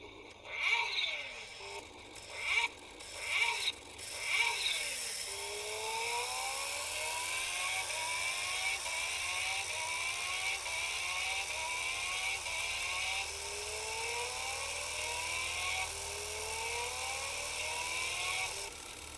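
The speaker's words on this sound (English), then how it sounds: "Let's rev and see if this actually works." A toy Kawasaki Ninja H2 ride-on bike revving, a few quick rising whines at first, then a steady repeating electric motor whir climbing in pitch over and over, fairly faint and alone.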